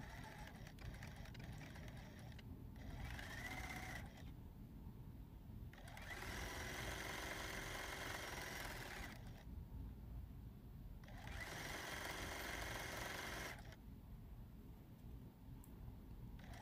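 A sewing machine stitches quilt blocks together for an Americana sampler quilt, running in three steady, close bursts of rapid whirring with brief pauses between them.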